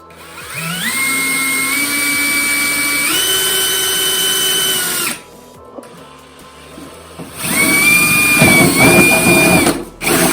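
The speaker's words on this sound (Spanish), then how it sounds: "vamos a hacer el primer agujero" Power drill boring the first hole through a kart seat during seat mounting, a loud whining motor that steps up in pitch, pauses briefly, then runs again with rougher grinding as the bit bites through.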